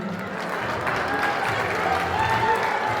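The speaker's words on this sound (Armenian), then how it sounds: "մի հատ բարձր ծափարություններ հնչեցնենք" An audience at a wedding-related celebration applauds in a steady, dense wash of clapping, moderately loud and continuous, with a voice speaking over it.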